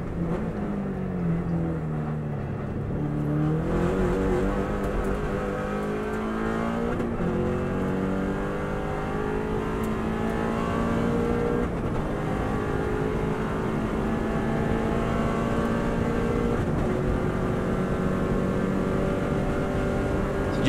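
A Subaru race car lapping flat out, the engine loud and close, repeatedly winding up through rising pitch sweeps with brief dips at gear changes, sustained over a long stretch.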